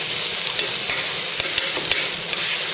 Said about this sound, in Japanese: 風味を出すためちょっと焼きます。